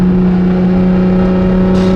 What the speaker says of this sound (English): So much power in this car. The sound though, the sound in the tunnel, even at slow speeds